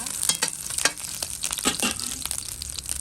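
Onions sauté in a hot pan, a close, continuous sizzle with scraping stir strokes and crackling bursts as they are pushed around.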